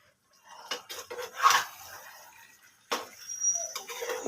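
A pan of mustard curry with its lid lifted and the contents stirred: a few close metallic clinks and scrapes of lid and spoon, then a brief quieter gap and more light clatter.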